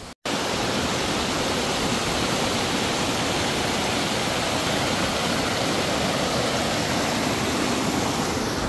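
A roadside waterfall along the Carretera Austral in Patagonian Chile roars as a loud, steady, unbroken rush of falling water, close by and alone, right after a brief silent moment at the start.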